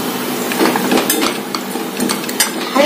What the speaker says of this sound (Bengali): হালকাভাবে খেজুরগুলোকে একটা গরম পাত্রে দিয়ে একটু নেড়ে নেব